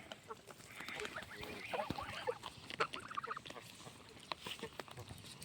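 Several geese honk and cackle in a loose, overlapping chorus, fairly close, over a low background hum.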